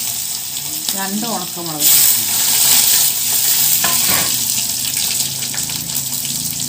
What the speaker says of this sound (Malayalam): കടുക് ഇട്ട് കൊടുക്കട്ടെ. ഒരു 3 അല്ലി വെളുത്തുള്ളി,